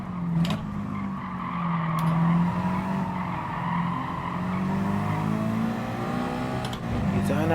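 Race car engine in Gran Turismo Sport (GT League 4WD Challenge) drops through gears under hard braking, revs falling and blipping with a tire squeal, loud and continuous, with a voice talking over it at times.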